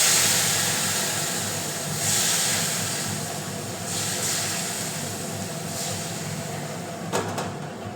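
Hot water is poured into a frying pan of kochu being cooked, raising a loud, broad hiss and roaring bubble that swells and fades in waves, followed by a couple of sharp clinks near the end.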